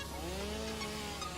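A chainsaw in a factory-building video game whines at a steady pitch while cutting, a constant buzzing drone.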